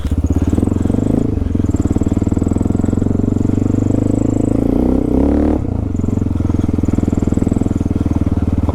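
Honda XR650L motorcycle being ridden through trees, its engine a loud, steady thumping drone with a brief rev and wheelie surge near the middle, heavy wind rush throughout.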